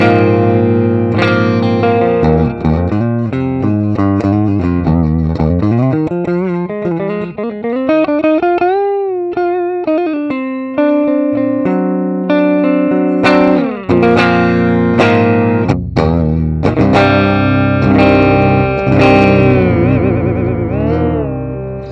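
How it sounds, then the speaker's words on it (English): Electric guitar played through the Fender Twin Reverb preamp model (US65TW) of a JOYO Preamp House, loud and continuous with sliding bends, held notes and strummed chords, effects-coloured with distortion and reverb, no talking. "We're on the US65TW preamp, which is a Fender Twin Reverb."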